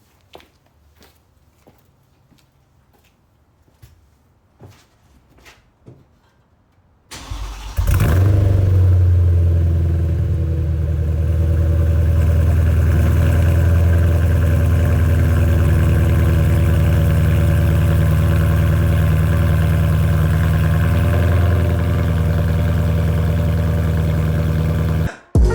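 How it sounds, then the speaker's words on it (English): A BMW E92 with a valvetronic exhaust cold-starts after a stretch of near silence with faint clicks, catching with a loud crank and flare, then settling into a steady, deep, loud idle that holds for the rest of the clip, close by and without talk. "Let's get a cold start on the E92."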